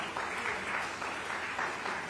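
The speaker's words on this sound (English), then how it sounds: "Big round of applause, everybody." A business conclave audience applauds the panel with steady, full clapping that continues evenly throughout.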